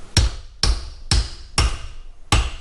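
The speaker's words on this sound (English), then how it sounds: "You can hear when it's seated, it goes from a hollow sound to a nice solid ring right through the tube." A hammer knocks a part down into the tube of an old rusty drill press: five sharp, close blows at fairly even intervals, each with a brief metallic ring and no talking.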